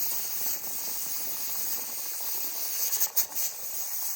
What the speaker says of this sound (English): It's letting out a little steam.